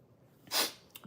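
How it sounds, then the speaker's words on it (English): A single close, loud sneeze bursts out mid-clip, followed by a short sniff or breath, in an otherwise quiet indoor setting. "I gotta sneeze."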